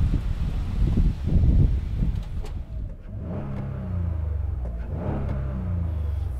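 A Toyota Sienna engine revs up and holds a high whine, drops off, then rises again in a second steady rev capped near 4000 rpm, fairly close with no talking.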